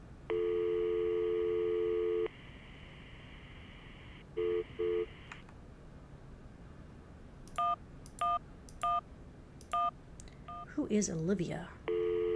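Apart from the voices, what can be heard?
telephone dialing and busy signal in Syberia video game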